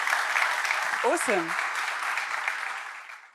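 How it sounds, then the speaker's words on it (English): Conference attendees at ContainerDays Hamburg applaud after a talk, a continuous dense clatter of clapping that fades slightly at the end, with a brief spoken word from one person partway through. "This is your round of applause."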